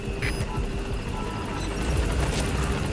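A support helicopter arrives in the Metal Gear Solid V video game, its steady, loud rotor throb and engine hum filling the scene, with some faint background sounds.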